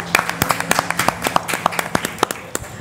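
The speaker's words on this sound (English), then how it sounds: "We must give them applause." Conference audience applauding at a medical gathering, a short burst of sharp, irregular hand claps that stays fairly loud and close for about three seconds.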